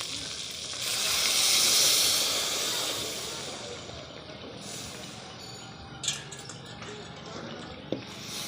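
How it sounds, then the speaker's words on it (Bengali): Chicken frying in a pan for chicken malai curry hisses loudly as meat stock is poured in, the sizzle swelling then settling into steady frying with a couple of sharp clinks near the end, while someone talks over it. "মাংস সেদ্ধ করার সময় যে জলটা ছিল আমি সেই জলটা দিয়ে দেবো।"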